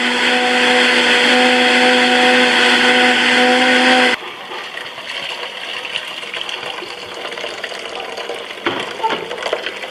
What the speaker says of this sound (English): I'm going to blend the coconut.